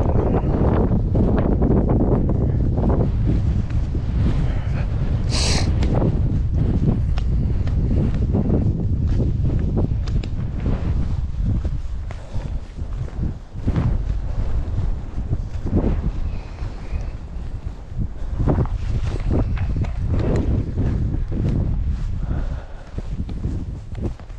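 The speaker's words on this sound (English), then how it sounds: "We're blowing everywhere then. Sort of takes you off your feet a bit, the big gusts, it's got to be careful." Strong, gusty wind buffets the microphone on a high fell above Wastwater in the Lake District, a continuous loud roar that swells and eases with the gusts and drowns out everything else.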